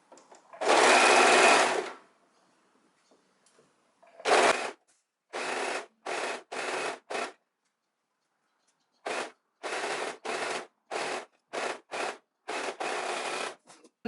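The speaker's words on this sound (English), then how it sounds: "Now that we've sewn this side together" A sewing machine stitches the side seams of a scarf top, starting with one long steady run, then breaking into a string of short, even bursts of close, clear motor whirring and needle chatter.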